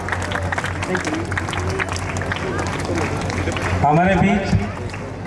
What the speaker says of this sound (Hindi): सभी विद्यार्थियों से अनुरोध है जोरदार तालियों के साथ पुनः करतल ध्वनि